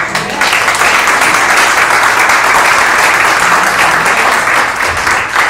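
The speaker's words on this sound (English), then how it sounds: "I want to have a round of applause for our veterans" Seminar audience gives a round of applause for veterans, loud dense clapping from a crowd filling the whole stretch without pause.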